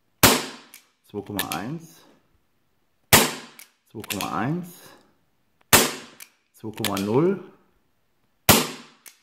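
Four sharp, loud shots from a GSG Diana Raptor .177 CO2 air pistol firing diabolo pellets, evenly spaced, each followed by a voice calling out numbers.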